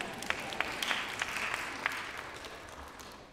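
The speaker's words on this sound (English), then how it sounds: "You can clap if you want to clap." A church congregation claps in a fairly faint, loose patter of scattered hand claps that fades within a few seconds.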